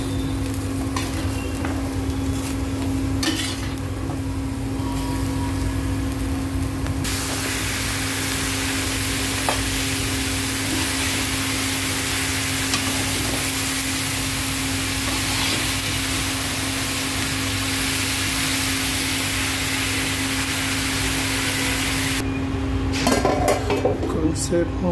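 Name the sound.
ridge gourd pieces added to hot pan, sizzling and stirring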